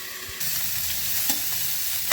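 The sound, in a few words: cauliflower frying in a pan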